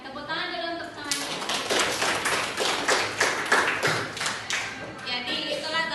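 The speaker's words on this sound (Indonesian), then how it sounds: "Oke, tepuk tangan dulu untuk semuanya." Group clapping for everyone at a gathering, a dense run of handclaps lasting several seconds, with talk heard before and after.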